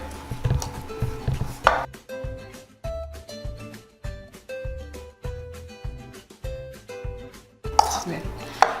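Mayonnaise and Parmesan being mixed in a bowl with a utensil, a rhythmic series of close clinks and knocks against the bowl at roughly even intervals, loud and alone.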